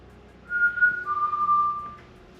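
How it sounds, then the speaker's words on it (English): A person whistles a short, clear two-note phrase at moderate volume in a quiet corridor of Beaumanor Hall, a former WW2 radio station, with a faint low hum underneath. "You copy my whistle?"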